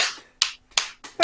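Three or four sharp, separate hand claps or snaps, close and dry, spaced evenly with brief silence between them and no talk.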